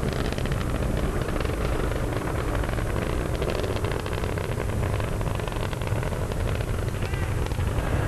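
Space Shuttle Discovery's launch engines roar in a steady, dense, loud rumble with crackling texture that continues without pause throughout.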